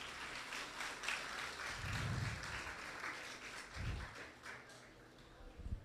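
Students at a construction college open day applaud steadily for several seconds, a dense patter of clapping heard from some distance with faint background murmur.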